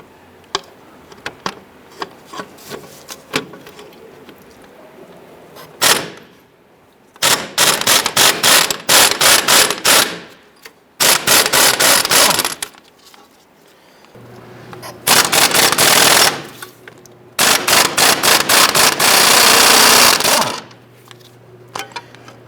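A ratchet wrench spins 24mm strut nuts off their bolts on a 1994–2004 Ford Mustang. Close, loud bursts of rapid clicking repeat several times, separated by pauses, with light clinks of tools in between.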